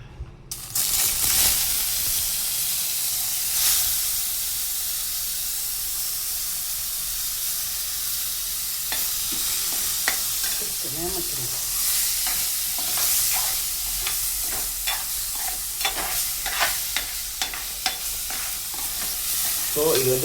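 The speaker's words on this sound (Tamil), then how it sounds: "இப்போ இந்த மிக்ஸ் பண்ணி வச்ச சிக்கனை டேரெக்டாக உள்ளே போடணும்." Marinated chicken in yogurt-based marinade hits hot oil in a pan and sizzles loudly and continuously, with scraping stirs and sputtering bursts building in the second half.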